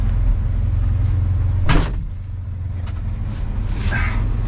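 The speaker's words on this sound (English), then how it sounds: "Making sure I got that door shut." One solid door thump from a 1993 Ford F150 pickup over its steady low engine idle, followed by faint rattles as the rumble carries on.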